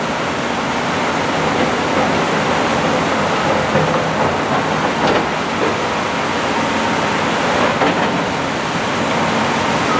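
Steady broadband rush of a river running close by below a Coquihalla highway rebuild site, continuous and fairly loud throughout with no clear voices.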